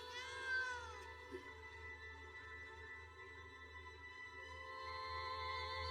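A cat gives a short, faint meow at the start, set against a steady tonal background hum and sustained musical tones from an animated show.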